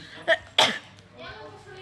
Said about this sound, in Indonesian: Aduh batuk nih.